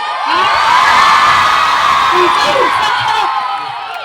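A high school audience cheers and whoops for a dance team, a loud, sustained wash of shrill young voices and yells rising and holding for several seconds before easing off.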